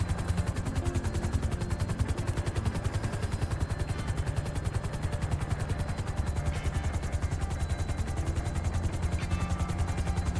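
A helicopter flies in GTA 5 during a FiveM roleplay raid, its rotor chop pulsing steadily and loudly throughout with a dense, continuous engine drone and no voices.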